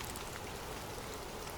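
Soft rain falls in a steady, unbroken hiss, faint and even throughout with no talking or other sounds.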